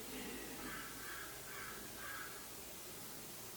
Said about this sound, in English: Again, I'm hearing the crows.